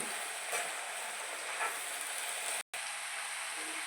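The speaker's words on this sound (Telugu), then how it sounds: "ఉప్పు అండి వేసుకుని బాగా కలుపుకోవాలి" Dried prawn and brinjal curry with salt being stirred in a pan, giving a steady hiss of sizzling under faint scraping that runs without pause apart from one brief dropout.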